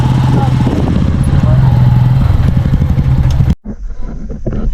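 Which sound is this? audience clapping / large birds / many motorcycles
many motorcycles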